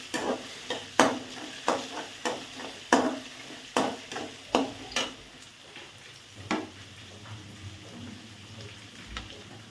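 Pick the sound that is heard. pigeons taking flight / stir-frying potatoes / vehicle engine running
stir-frying potatoes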